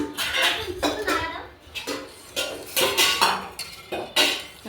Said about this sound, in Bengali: ডাল নাড়া দিচ্ছি।